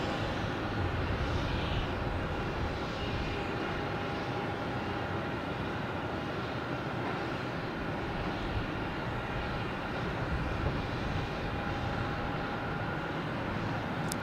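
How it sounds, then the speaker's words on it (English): Steady, broad roar of airplanes landing on runway 27 at Logan Airport at night, a continuous distant jet engine rumble and whine that holds an even level with a faint high tone. "We got planes landing in 27, which is a crossing runway."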